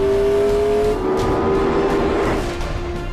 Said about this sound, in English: The throttle is a hyperspace button. Step on it, and you're gone.